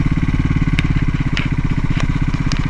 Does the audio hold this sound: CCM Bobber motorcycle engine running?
yes